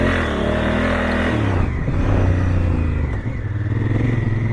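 A Honda CRF1000L adventure motorcycle engine pulling hard under acceleration, a loud steady drone whose pitch climbs, dips at a gear change and rises again, heard close with wind noise.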